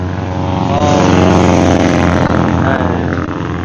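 A Yamaha LC135 motorcycle with a TS Racing exhaust and a 62-spec engine runs loud and close, its buzzing exhaust note steady and rising slightly as the revs climb.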